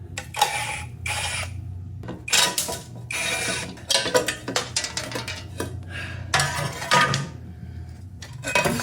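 Bolts and nuts are worked loose from the bash plate of a BMW R 1100 GS oilhead motorcycle: repeated close metallic ratcheting and clinking come in uneven bursts, with tools and parts clattering between them.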